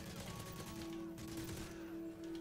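ACR assault rifle firing in Call of Duty: Modern Warfare, a dense steady stream of automatic shots that carries on without a break, loud and close, over a sustained game tone.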